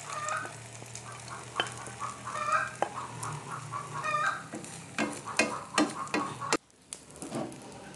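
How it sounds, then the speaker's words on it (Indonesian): Beaten egg fries as an omelette in hot oil, a continuous crackling sizzle with stirring scrapes, while a chicken clucks intermittently nearby. "ini minyaknya udah panas, sekarang kita langsung dadar saja"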